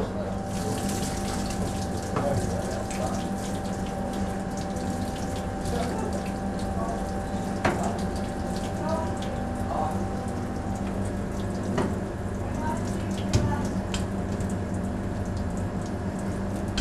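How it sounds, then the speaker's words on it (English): Water running and draining steadily from tomatoes being prepared for passata, a continuous splashing flow like a tap or sink, with faint clinks and voices in the background. "we're going to drain them so that we take most of the water out"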